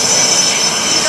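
A CF-18 Hornet jet in Battle of Britain paint roars past at an air national guard airshow, a loud continuous engine wash filling the air.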